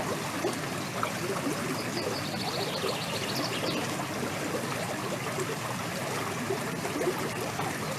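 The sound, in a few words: water flowing at the base of a waterfall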